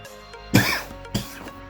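Two coughs, a harsh one followed a moment later by a shorter, softer one, close by, with no talking.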